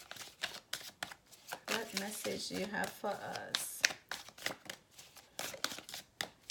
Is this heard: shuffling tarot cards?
yes